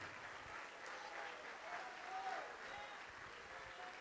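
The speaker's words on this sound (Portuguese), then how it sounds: "Vamos aplaudir mais," A church congregation applauding during a service, a soft, continuous wash of many hands clapping at a distance with faint voices mixed in.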